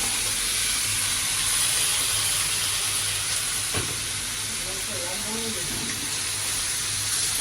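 Mixed vegetables fry in a spice paste for a rohu fish curry, a loud, constant steamy sizzle with soft stirring scrapes, close up and unbroken throughout.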